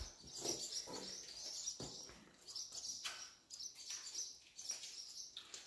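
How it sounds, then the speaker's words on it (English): Birds chirping and cooing outside an abandoned prison at Burwash Correctional Centre, with steady overlapping calls at moderate distance and no talking. "Birds are pissed, though. They don't like us being here."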